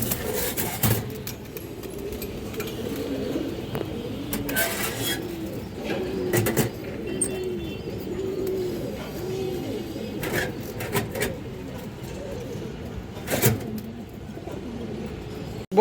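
Pigeons of a single bloodline coo in low, rolling murmurs through a loft, steady and moderately near, broken by sharp clatters and rustles of wings and cage.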